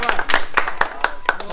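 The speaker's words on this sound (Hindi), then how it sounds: "ज्यादा तालियां रशीद भाई के लिए" Audience clapping in bursts at a gada (mace) swinging session in a Varanasi akhara, the sharp, uneven claps sounding close and lively, with a voice calling out between them.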